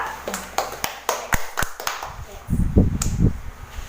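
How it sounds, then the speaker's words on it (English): A few sharp, scattered hand claps from students in a classroom teaching demonstration ring out close by, then a voice begins speaking. "let's give everyone a clap."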